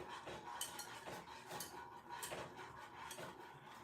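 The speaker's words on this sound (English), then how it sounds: "So I'm going to stir up this broth." A spoon stirring broth in a pot, with soft, regular scraping and clinking strokes at a fairly even rhythm, quiet and close, with no talking.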